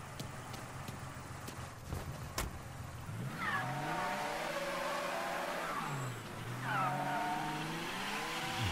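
A car in the open-world crime game Mafia III pulls away, its engine revving up in two rising surges with a brief dip between, loud and steady with no talk over it.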